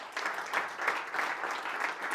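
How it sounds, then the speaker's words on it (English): Applause from an audience at a summit, a soft, even patter of many hands clapping, fairly distant and continuous for the whole moment. "let's give each other a round of applause for an awesome day."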